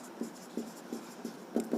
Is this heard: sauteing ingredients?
no